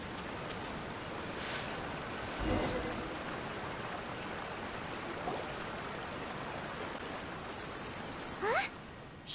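A small waterfall in the Genshin Impact video game gives a steady, moderately loud rushing wash of falling water throughout, broken by a couple of brief louder splashes or swishes.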